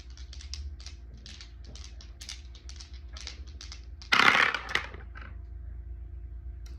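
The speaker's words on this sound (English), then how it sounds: "I'm gonna roll the Astro dice" Astrology dice are rolled during a pick-a-card reading, giving a brief burst of clattering and tumbling around the middle, heard over a quiet background of faint light tapping.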